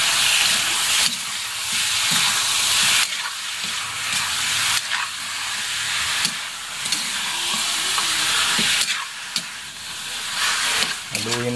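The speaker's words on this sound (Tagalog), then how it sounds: "Haluin natin hanggang maging brown na po yan." Meat for batchoy fries in a hot pan while being stirred, a loud continuous sizzle and hiss broken by scraping stir strokes and clatters, with no voices.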